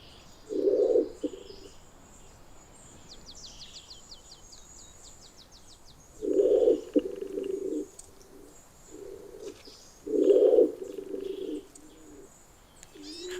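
A pigeon coos in a Canary Islands laurel forest, giving three separate low hooting phrases at fairly close range, with faint chirping from smaller birds in the background.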